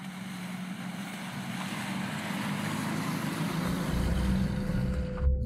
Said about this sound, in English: Yes, it's rough, bumpy, and loud here, but it's awesome.